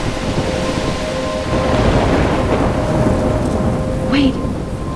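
Heavy rain pours steadily with rumbling thunder in a stormy scene from the video game Life is Strange, loud and continuous throughout.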